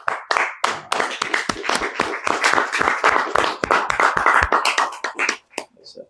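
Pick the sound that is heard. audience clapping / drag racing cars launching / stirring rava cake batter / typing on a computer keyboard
audience clapping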